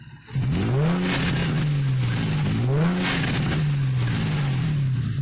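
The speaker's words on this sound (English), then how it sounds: "So just wanted to hear the engine here, guys." A modded 2005 Nissan 350Z with an ISR catback exhaust revs up and holds a loud, throaty exhaust drone, rising and falling in pitch a few times, close by.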